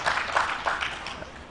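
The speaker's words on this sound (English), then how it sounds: "So join me in applauding it." An audience at a national agroecology symposium claps together in a dense, steady burst of applause that thins slightly toward the end.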